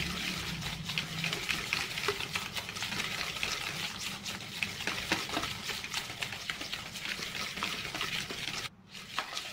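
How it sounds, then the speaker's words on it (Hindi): Sugar mixture for no-oven chocolate chip cookie dough being beaten steadily by hand with a beater in a bowl, a continuous close scraping and swishing with soft wet slaps, briefly dropping out near the end. "आपने बिल्कुल ऐसे बीटर चलाना है कि ये बिल्कुल प्लेन हो जाए।"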